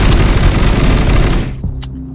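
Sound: gunfire in the video game Unturned

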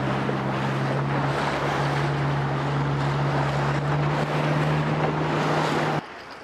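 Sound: loud sea waves crashing

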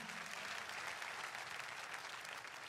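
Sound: congregation clapping for Jesus

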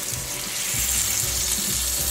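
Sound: water being added to cooking chicken

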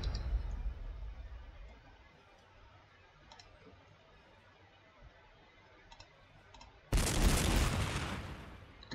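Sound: artillery fire in Warhammer 40,000: Sanctus Reach video game

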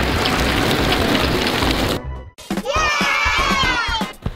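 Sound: rain

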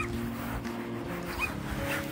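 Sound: puppy on the beach

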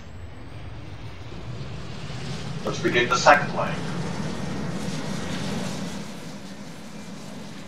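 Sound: aircraft engines starting in Roblox Aeronautica video game

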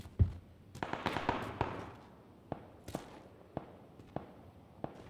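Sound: gunshots in a video game

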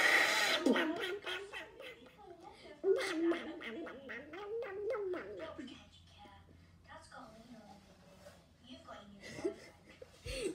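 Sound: voice imitating a cartoon duck

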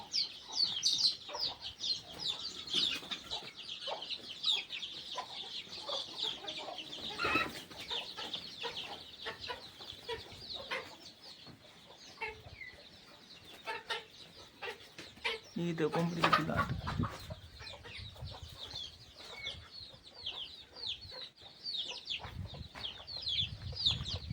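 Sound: chickens and roosters clucking on a chicken farm

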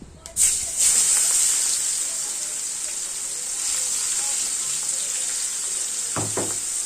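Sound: chopped onion sizzling with cumin and dried chili in oil

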